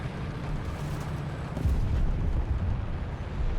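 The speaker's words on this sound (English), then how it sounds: "Oh, mega bomb. You love to see it." A huge mega bomb explosion in the War Thunder video game, a deep, sustained rumbling roar that swells partway through and keeps booming low and loud without talk.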